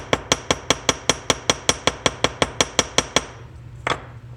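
Hammer striking a metal sheet to texture its surface, about sixteen sharp, ringing blows in a steady quick rhythm, close and loud, followed by a pause and one last clink.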